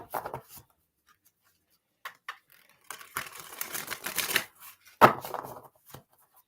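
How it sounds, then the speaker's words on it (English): A deck of cards is shuffled in sharp riffling bursts, crisp and close, separated by quiet pauses, ending in one loud snap and a few softer flutters. "Y'all want to see me shuffle?"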